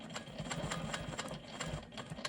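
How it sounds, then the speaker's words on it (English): Sewing machine stitching a quilting line across a rolling stone quilt block, a fast, even run of needle strokes and motor hum heard close and continuous, with no talking. "And now I'm going to go ahead and quilt my next line."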